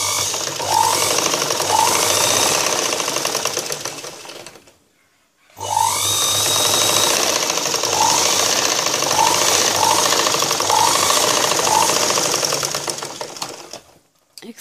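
A sewing machine stitches a cross-cut blouse, running in a loud, steady rapid whir close by, pausing briefly partway through before starting up again.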